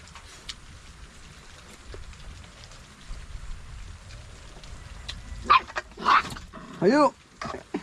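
Several dogs barking in short bursts toward the end, moderately close, over outdoor background hiss with faint talk during a tilapia catch-and-cook outing.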